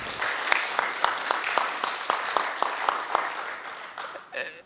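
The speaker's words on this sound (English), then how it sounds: "Can we give a round of applause for Debian?" A conference audience applauds Debian at the LibreOffice Conference 2019 lightning talks, a dense, even wash of clapping with sharp individual claps standing out, tapering off near the end with a bit of talk.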